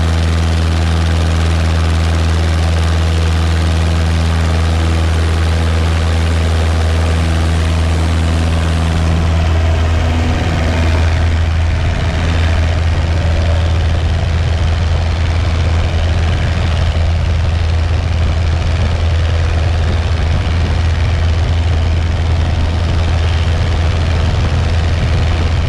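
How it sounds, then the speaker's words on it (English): A Taylorcraft light airplane's propeller engine drones steadily as it departs runway 36, a loud continuous hum heard from inside the cabin that swells to a fuller roar midway as power comes up. "Cottonwood Taylorcraft 62472, departing runway 36, departing the pattern to the west."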